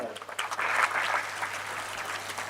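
An audience seated at a Marathi motivational talk breaks into a short burst of clapping. It swells quickly and then holds at a moderate, even level for a couple of seconds.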